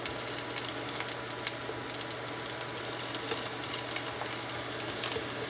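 Steady, quiet sizzling hiss of food frying in a pan, with faint crackles and a low hum underneath, no voices.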